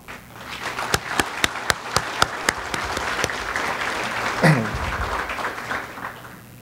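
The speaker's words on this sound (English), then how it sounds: "let's give them a big round of applause." An audience at a chamber of commerce anniversary gala breaks into applause, opening with a run of sharp, separate claps that merge into a loud, sustained ovation before tapering off.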